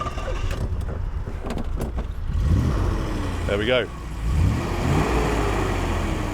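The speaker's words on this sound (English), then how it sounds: "That's the throbbing V8 engine" A Triumph Stag's 3-litre V8 engine cranks, catches and settles into a loud, throbbing run close by, with a brief rev; someone speaks a few words as it fires.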